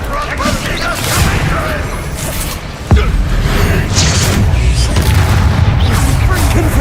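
Explosive spell blasts in Hogwarts Legacy, a loud sharp boom amid ongoing rumbling combat noise, with a voice shouting spell names throughout.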